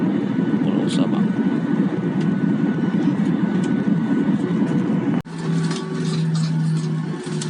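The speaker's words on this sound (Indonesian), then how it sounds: "Kita akan mendarat di Bandara Sultan Iskandar Muda." A passenger airplane descends toward Sultan Iskandar Muda Airport in Aceh Besar after crossing the sea near Sabang, heard from inside the cabin as a loud, steady engine roar that drops abruptly and resumes with a lower hum.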